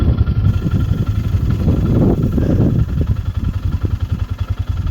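An ATV engine runs close by during a spring turkey hunt on Colorado public land, a steady low chugging rumble that settles into a rhythmic idle pulse toward the end, with no talking.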